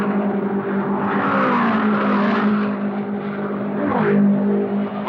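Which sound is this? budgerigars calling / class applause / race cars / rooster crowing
race cars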